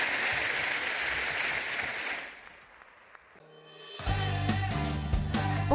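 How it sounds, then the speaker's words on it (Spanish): Audience applause for author Alejandro Gallo at the Semana Negra book festival: a dense burst of clapping for about two seconds that fades out, followed by music starting up. "un aplauso para Alejandro Gallo"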